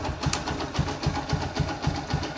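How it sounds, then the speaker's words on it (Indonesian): A Honda Megapro motorcycle engine idles close by with a steady, rapid mechanical beat and a rattly, chattering tone, running alone without talk. "Oke teman-teman, ini motor sudah menyala ya."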